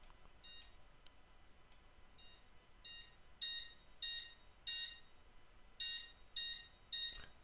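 A fire alarm control panel's sounder gives a run of loud, evenly spaced electronic beeps, about ten pulses repeating at a steady rhythm over a quiet background.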